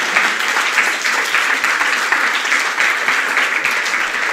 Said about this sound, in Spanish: ¿Por qué no damos un aplauso al Señor por la vida de estos niños?